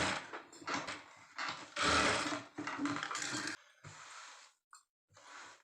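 A sewing machine stitches lehenga canvas in short, close bursts of whirring mechanical running separated by brief pauses, quiet overall.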